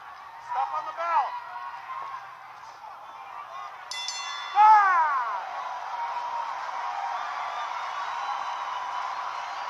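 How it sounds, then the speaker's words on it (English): A boxing bell rings to end a round in the Jose Carlos Ramirez vs Jose Zepeda bout, a bright sustained clang rising about midway over steady ringside commentary and crowd murmur. "Stop on the bell."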